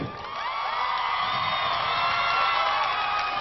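Hypnosis show audience erupting in loud, continuous cheering, whooping and shouting mixed with applause, a dense crowd roar that holds steady throughout.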